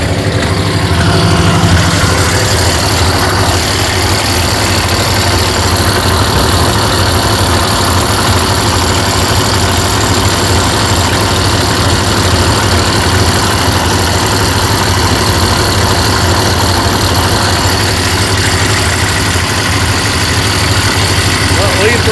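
A neglected 1950 Ford flathead engine idling after being revived, running low on fuel; a steady, loud, continuous idle rumble with constant vibration throughout, with no change in pace.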